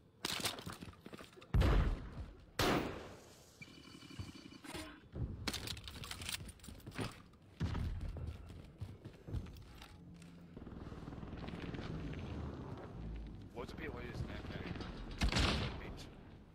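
Gunfire crackles in the Warzone video game in scattered bursts and sharp cracks, some near and loud, others distant, mixed with a continuous rumble and a player talking over it.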